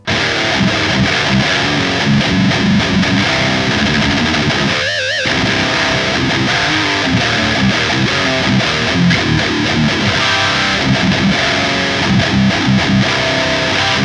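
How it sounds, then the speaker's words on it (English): Electric guitar played through an Ampero smooth distortion setting, a loud, sustained overdriven tone filling the whole passage, with a brief dip near the middle. "Let's go with the smooth distortion."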